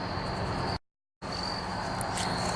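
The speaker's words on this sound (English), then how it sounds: "The sun is starting to set and the crickets are coming out" Crickets chirping in a cemetery as the sun sets, a continuous high-pitched trill from many insects, steady and moderately loud, broken by one brief cut to silence before resuming.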